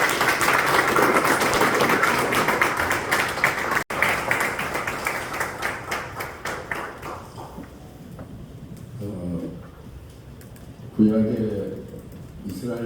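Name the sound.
applause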